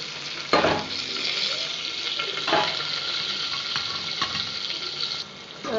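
Onion, two green chillies and a sprig of curry leaves sauté in oil with a steady hiss, broken by a few louder stirring scrapes at a close, even level.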